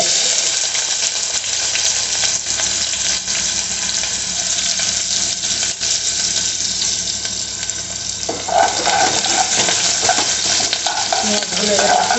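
Ingredients frying in a smoking-hot pan for yakhni pulao: a loud, broad, continuous sizzle with occasional stirring scrapes, close-up and steady.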